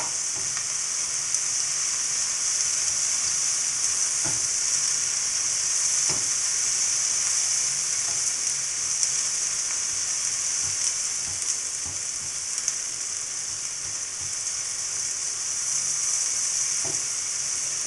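About ten to twelve mushrooms frying in a pan, a steady bright sizzle and hiss held at an even level, with faint occasional stirring clicks and no talk.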